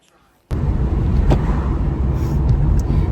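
A car is driving, with a close, loud, steady low rumble of road and engine noise inside the cabin that starts abruptly.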